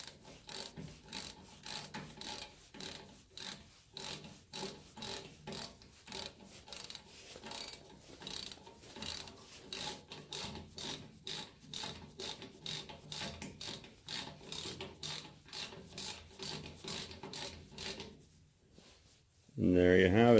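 A freshly cleaned and lubricated socket wrench ratchet clicks in steady, rapid rhythmic bursts throughout, close and fairly loud, ending with a short louder rustle.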